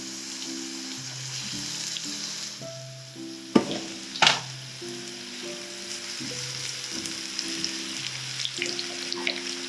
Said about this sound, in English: I'm going to fry that 1 onion I kept separately for making masala.